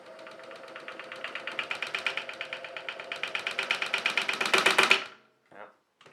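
A CRB Pro roller stand spinning a rod builds into a rapid, rattling mechanical whir that grows steadily louder and faster before cutting off abruptly, followed by a short faint knock.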